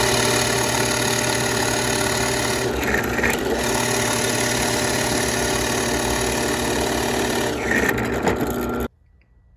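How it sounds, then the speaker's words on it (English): Drill boring holes in a wooden socket organizer, a loud continuous motor whir with slight changes in load that stops abruptly near the end. "All right, we got all our holes drilled."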